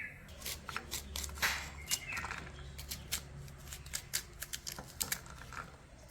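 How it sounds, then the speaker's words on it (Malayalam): Cleaned beans bundled together are chopped on a cutting board with a knife, in quick, uneven, close taps over a faint low hum. "വൃത്തിയാക്കിയിട്ട് കൂട്ടിപ്പിടിച്ചരിഞ്ഞ എളുപ്പമുണ്ട്"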